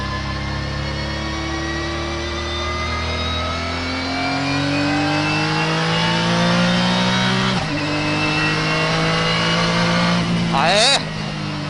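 Honda NSX Turbo on a track, engine climbing steadily through the revs with a loud, close drone, a brief dip at a gear change and a sharp rise near the end; a voice speaks over it.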